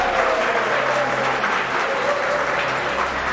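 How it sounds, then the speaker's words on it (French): Audience applause at a French-language quiz or game show finale, encouraging a contestant, a steady dense clapping that runs evenly throughout the short stretch, loud and close with no voices on top. "Il faut encourager Daouda en applaudissant pour lui"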